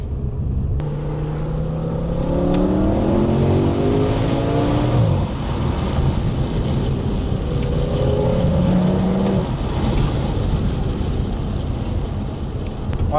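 Audi RS6 C6 with its V10 accelerating hard, a loud close engine roar climbing in pitch through two long rising pulls, with steady wind rush throughout.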